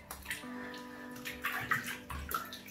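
Water splashes and sloshes in a baby bath tub as a newborn is bathed, with irregular close splashes and dripping over a low running background; no one speaks.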